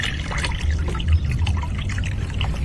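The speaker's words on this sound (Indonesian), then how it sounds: "Sekarang kita masukkan fungisidanya ke blong ini ya" Liquid fungicide is poured into a plastic drum already holding water, a soft close trickle and splash running steadily for a few seconds over low background rumble.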